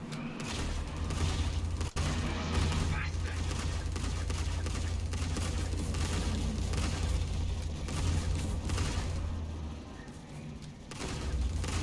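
Spaceship combat in Star Citizen in VR: a dense, continuous rumble of gunfire and impacts roars on for several seconds after one sharp crack, the roar as the wing is shot off, easing briefly near the end.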